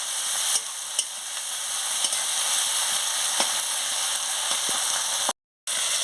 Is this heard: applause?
no